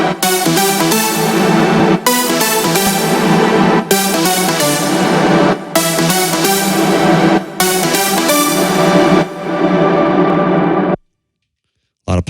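Bright synth lead with sidechain-compressed reverb, playing in pumping bursts that cut off and swell back between phrases, loud and upfront, ending in a brief silence.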